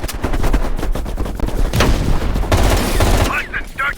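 Heavy machine gun fire in Call of Duty Black Ops Cold War hammers out in a dense, rapid, continuous burst, loud and close, mixed with booming battle noise and brief shouted voices toward the end.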